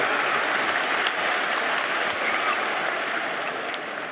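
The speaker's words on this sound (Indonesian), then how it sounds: "tepuk tangan dulu" A large audience claps at a tabligh akbar religious gathering in an Edutorium hall, a dense, steady wash of applause with a few sharper claps standing out, no talk over it.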